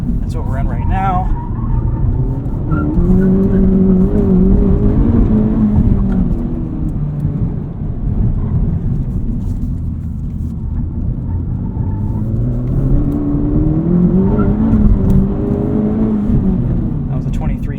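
A Honda Civic Type R FL5 with an Integra Type S damper module, in sport mode, is driven hard on a track. Its engine drones loudly from inside the cabin, with the revs climbing and falling twice.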